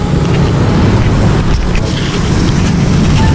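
Steady, loud wind rushing and buffeting across the whole clip, with a low rumble underneath and no voices.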